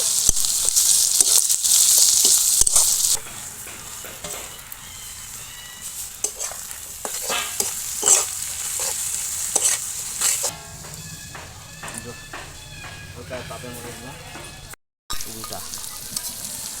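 Ginger and garlic frying in a pan for a home-cooked Kolkata-style dish, a loud bright sizzle that settles into steady crackling hiss with stirring scrapes, briefly cutting out near the end.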